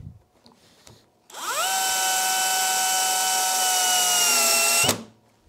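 A handheld power drill set to clutch mode 1 and gearbox 1 spins up after a few faint clicks. It holds a steady high whine for several seconds, then stops abruptly, close by and loud.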